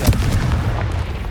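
Confringo fire blast spell cast in the Hogwarts Legacy video game, a deep booming burst with a low rumbling tail that carries loudly through the whole moment.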